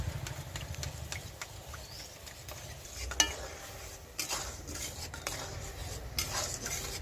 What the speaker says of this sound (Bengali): এবার একটু ভালো করে গুলে নেব।